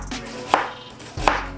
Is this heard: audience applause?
no